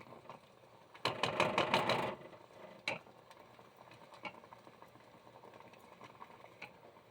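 A spoon stirs and breaks up a partly melted conditioner bar mixture, giving a burst of rapid clinking and scraping for about a second, then scattered faint taps and clicks.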